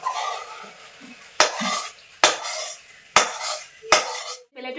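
Cooked kotkoti mixture, a crunchy Bengali sweet snack made with baking soda, poured onto a plate, giving a soft sticky slide broken by four sharp metal knocks and scrapes of a spoon against the pot and plate, close, with no voices.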